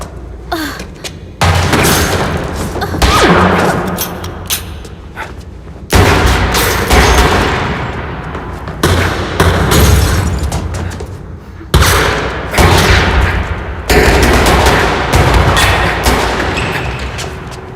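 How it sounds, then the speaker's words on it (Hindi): Heavy gunfire from a Hindi-dubbed Hollywood action thriller: loud, dense volleys of shots and booms in several bursts, each surge fading into echo before the next barrage begins. "गोलियां चलाना बंद करो"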